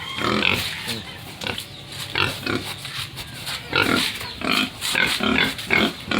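Hungry pigs on a farm grunt and snort in repeated bursts, loud and close, overlapping in an uneven rhythm that grows busier toward the end.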